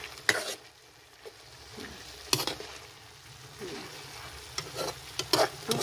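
Chicken sautéing in a pan for sinigang, quiet steady sizzle broken by several sharp scrapes and clinks of a utensil stirring the meat, close and fairly soft.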